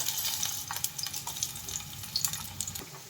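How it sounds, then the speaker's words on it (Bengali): Garlic and chopped ginger fry in hot oil in a frying pan, giving a soft, steady crackling sizzle with small pops throughout and no voices. "তেলের মধ্যে দিয়ে দিচ্ছি রসুন আর সঙ্গে কুচুনো আদা"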